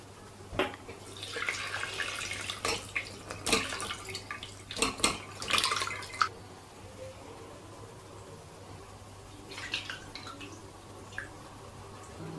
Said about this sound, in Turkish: Ve buradaki peyniri tülbentin içine süzüyoruz.